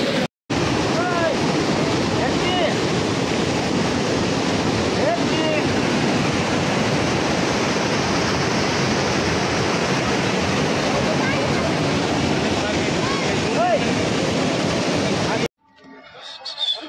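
A waterfall near Mussoorie, heard as a loud, continuous broadband roar of rushing water that holds steady for about fifteen seconds before cutting out abruptly.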